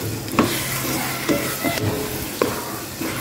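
Thick deremen (inlubi) rice cake mixture is stirred in a pan, with a soft sizzling bed broken by a few sharp scraping strokes at irregular intervals, close and with no speech.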